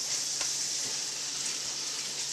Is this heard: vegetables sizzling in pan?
yes